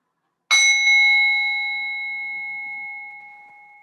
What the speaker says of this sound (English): In a moment, you'll hear the sound of the bell.